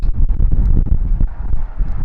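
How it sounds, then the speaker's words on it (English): Steady gusting wind buffets the microphone in a low, rumbling roar with uneven surges, loud and close, with no one speaking, beside Interstate 10 in New Mexico. "And you can see how windy it is."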